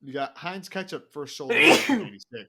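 A single loud sneeze bursts out in the middle of casual podcast conversation, with people talking just before and after it, close to the microphone.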